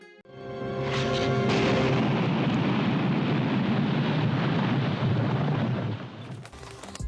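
A massive explosion levels an entire town in Little House on the Prairie, a sudden loud blast that rolls into a long, dense rumble of debris, then fades and cuts off.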